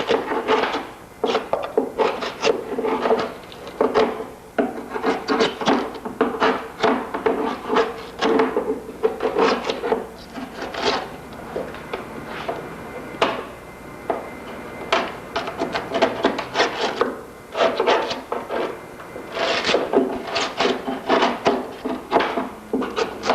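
Repeated rough scraping and gouging strokes remove foam and peel ply from an aircraft wing, arriving in uneven bursts of rasping and knocking that run on steadily and close up.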